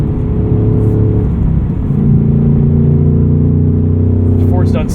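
A 2024 Ford Mustang Dark Horse with a Tremec six-speed manual, its engine and tuned exhaust droning loud and steady from inside the cabin, with the pitch stepping up as it revs harder partway through.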